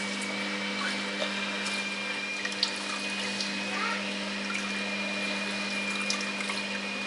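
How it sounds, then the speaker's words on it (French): A home washing machine runs in the background with a constant, even hum and a wash of water-like noise, steady throughout with no clear breaks or changes. "je m'excuse pour le bruit, c'est ma machine à laver"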